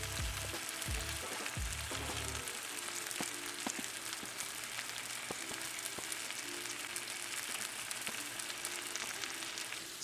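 Steak sizzles steadily in a frying pan, a continuous close hissing crackle with fine popping spatters and no talking, a low clunk marking the first couple of seconds.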